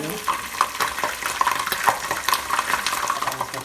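Ginger-garlic paste fries and sizzles in a pot for chicken biryani, a continuous close hiss broken by frequent scraping strokes of a stirring spoon.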